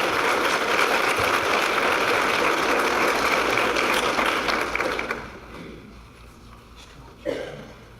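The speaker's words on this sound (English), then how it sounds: "let's give them a round of applause as they come forward" Audience applause at a high school graduation celebration, dense and loud clapping for about five seconds before trailing off into a quieter room with a single bump.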